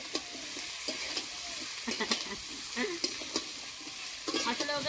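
Mixed vegetables for a Bengali cauliflower dalna stirred in a hot pan, a constant close sizzle of frying broken by scraping spoon strokes.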